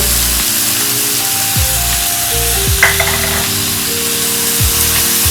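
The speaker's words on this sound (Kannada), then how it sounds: "ಇದನ್ನು ಕೂಡ ಚೆನ್ನಾಗಿ ಇದರಲ್ಲೇ ಫ್ರೈ ಮಾಡ್ತಾ ಇದ್ದೀನಿ" Onion and tomato frying in a pan, a continuous bright sizzle with repeated scraping stirs and clinks of a spatula against the metal, close and loud, with no talking.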